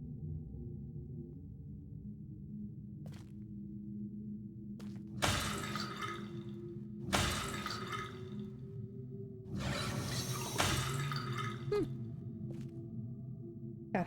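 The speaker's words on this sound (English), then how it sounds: "Got himself running water." Water drips and trickles in a video game, with a faint steady hum underneath, soft scattered plinks, and several louder broadband rushes or splashes about 5, 7, and 10 seconds in.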